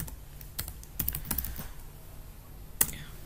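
Computer keyboard typing a terminal command to activate a Python virtual environment, a quick irregular run of soft key clicks with a few sharper taps, close and alone against a quiet background.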